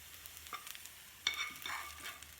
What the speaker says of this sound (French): Vous rajoutez vos oignons qui ont bien frit.